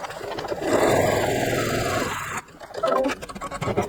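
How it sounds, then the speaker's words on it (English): An embroidery machine stitches a placement line for a Kimberbell applique piece, giving a steady, close mechanical whir for about two seconds before stopping, followed by quieter handling noises. "Put the hoop back into the machine and stitch the placement line for the next piece."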